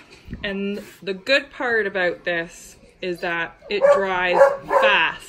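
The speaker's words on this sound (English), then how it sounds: "Excuse my dog." A dog barks and yips in quick bursts indoors, loud and close, overlapping a woman's speech about drying sealant.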